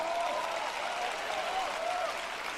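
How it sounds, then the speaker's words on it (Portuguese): Audience applause at a Joyce Meyer sermon, a dense continuous wash of clapping with a faint tonal line through it, steady for the whole short stretch. "Veja, aplausos pro David."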